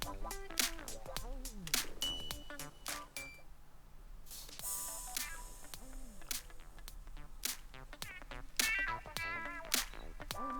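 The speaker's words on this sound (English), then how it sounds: "Now you can hear how the low frequencies are being cut out." A synth signal passes through the high-pass filter of a Korg MS-20 clone, producing thin, low-cut blips, plucks and chirpy sweeps in an irregular sequence with a brief noisy burst partway through, fairly quiet and without talk.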